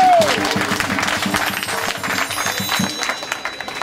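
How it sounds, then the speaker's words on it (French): Audience applause at an event welcoming a guest fills the clip, dense clapping from a crowd at steady volume, with a brief tone at the start and some murmuring underneath. "On l'applaudit."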